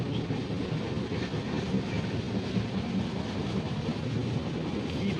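A steady rumbling roar inside a sleeper coach of the Vivek Express as the train runs, a continuous low drone with faint rattles and no talk.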